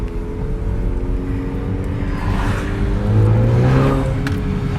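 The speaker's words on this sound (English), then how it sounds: "Just got my Borla exhaust installed. It is loud." A 2018 Honda Accord with an aftermarket Borla performance exhaust rumbles steadily with a deep, loud exhaust note, swelling into a brief rev near the end; no voices.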